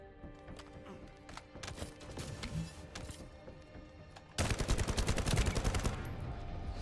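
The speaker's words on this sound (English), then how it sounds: "Foarte bun hand cannon-ul." Hand cannon fire in the video game The First Descendant: sharp, scattered shots crack in quick succession, then a denser, louder volley of rapid blasts takes over near the end.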